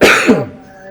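A single short, harsh cough close by, loud at first and quickly fading.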